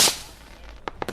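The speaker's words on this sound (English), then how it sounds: "Those are fireworks." Fireworks going off outside, a burst of crackle at the start followed by a few sharp scattered pops, fairly distant and brief.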